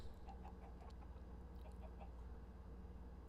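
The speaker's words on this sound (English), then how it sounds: "Okay, there are 4 chickens here." Minecraft chickens cluck softly and repeatedly in a steady low background, with faint game ambience.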